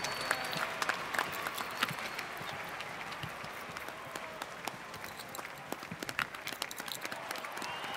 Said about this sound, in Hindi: जोरदार तालियों के साथ स्वागत कीजिए कंवर सिंह जी का और उनके ड्रामा कंपनी का